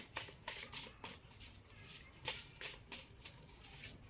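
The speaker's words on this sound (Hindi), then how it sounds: "मैं इन कार्ड्स को इससे क्लियर करूँगी अभी" Tarot cards are shuffled by hand in a series of quick riffling bursts, crisp papery flutters repeating at an irregular rhythm, close and fairly quiet with no speech.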